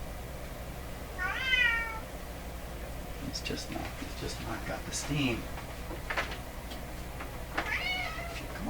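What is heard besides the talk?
cat meowing behind a door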